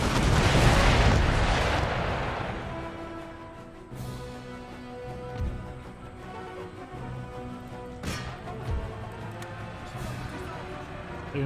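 Rocket volleys fire in Empire: Total War, a broad roaring whoosh up front that settles into a rumbling battle bed, with a few sharp bursts farther off and talk running underneath.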